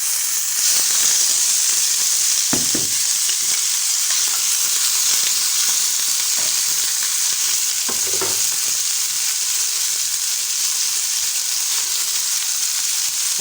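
Lardons and potato sizzle loudly in olive oil in a pan for a French tortilla omelette, a steady bright hiss throughout, broken by a few scraping stirs of a utensil.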